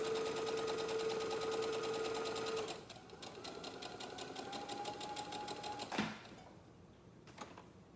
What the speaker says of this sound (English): So much better when the sewing machine cuts it for you.